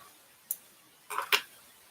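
Scissors snip waxed thread in a quiet room: one sharp isolated click, then a quick pair of snips close together, faint and near.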